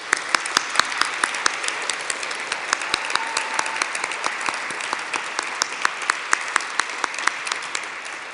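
Applause fills a room at a hospital fundraising gala, a steady dense patter of many hands with some sharper claps standing out near the microphone, sustained for several seconds with little talk.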